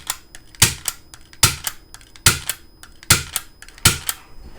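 A Daiso staple gun (tacker), used for stretching silkscreen fabric, fires staples: six sharp, close snapping clacks spaced evenly about a second apart, with no talking.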